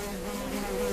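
A housefly buzzes in a continuous, fairly quiet drone that holds steady for about a second, alone without any voices.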